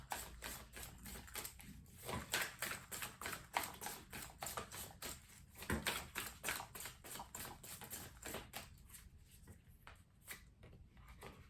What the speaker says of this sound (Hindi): I'm picking the cards in front of you. I am, and I'm shuffling them in front of you as well.